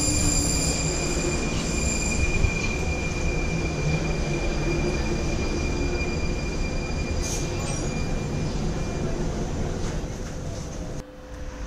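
A Prague metro train pulls into the station with loud, steady wheel squeal and rumbling rail noise close by, continuous for most of the stretch before cutting out abruptly near the end.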